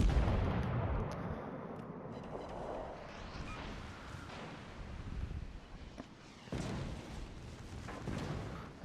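Secondary guns of the battleship Derfflinger fire in World of Warships, a string of rumbling, booming shots over a windy sea backdrop, moderately loud with short pauses between bursts.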